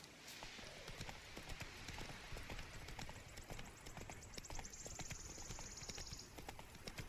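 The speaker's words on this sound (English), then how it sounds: "That's my horse, and I can do this to call him over." Horse hooves clip-clop steadily in The Witcher III: Wild Hunt video game, a quick continuous gallop-like patter heard alone at a modest level with a faint whistle-like tone late on.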